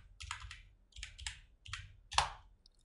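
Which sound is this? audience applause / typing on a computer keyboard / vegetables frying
typing on a computer keyboard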